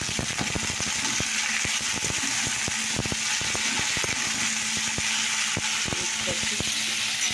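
Spices and potatoes being stirred in a hot cooking pan, a constant frying sizzle broken by repeated scraping and clanking strokes of a spatula against the metal, close and fairly loud.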